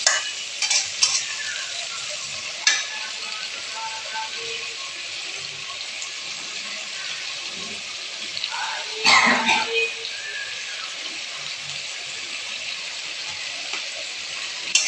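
Tomatoes cooking in a pan with spices, a soft steady sizzle running throughout with a few clinks and scrapes of stirring and one louder burst near the end, no speech.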